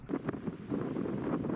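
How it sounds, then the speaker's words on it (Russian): Strong wind gusts over a river during a catamaran trip, rumbling against the microphone in uneven low bursts, moderately loud, with a faint splash of water beneath. "Сегодня у нас с самого утра достаточно ветрено."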